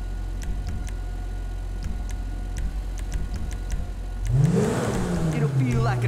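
Custom Audi S4 car in the video game GTA V: a steady engine idle with faint ticking, then a loud rising rev as the engine accelerates near the end, with speech over it.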